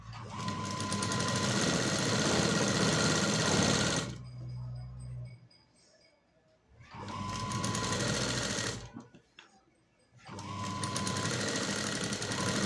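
A sewing machine stitches a sleeve lining in three loud, rapid mechanical bursts separated by short quiet pauses, heard close up and alone.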